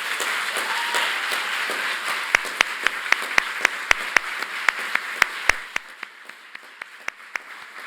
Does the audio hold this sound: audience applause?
yes